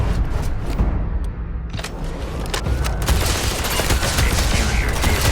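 Spaceship weapons fire in the space combat of Starfield, a dense, continuous barrage of rapid shots and booms that builds in intensity, loud and close throughout.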